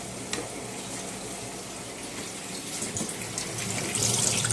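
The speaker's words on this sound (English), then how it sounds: "turn on the cold water, please" Cold water runs steadily from a kitchen sink tap, a continuous close hiss and splash that grows slightly louder and brighter toward the end, with no talking.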